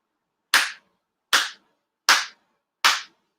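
Four sharp, evenly spaced hand claps ring out alone in a quiet hall during a Shinto ritual at a Konkō grand ceremony, each a crisp close smack with a short decay.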